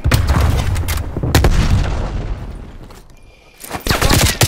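Grenade blast and gunfire in Call of Duty Cold War, with loud booming bursts and rattling shots in several heavy waves that fade into a lull before another burst.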